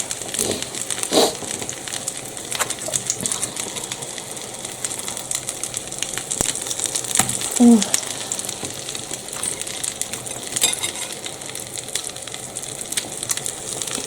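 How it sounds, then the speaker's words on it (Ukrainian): Steady crackling sizzle of food frying in a pan, continuous broadband hiss with occasional louder pops and clinks, close by, no talking. "Нехай смажиться."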